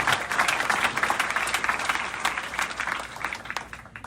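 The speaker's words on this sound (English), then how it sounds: "so give them a round of applause, eh?" Audience applauding at a political gathering, a fairly loud, dense burst of many hands clapping that gradually thins and tapers off toward the end.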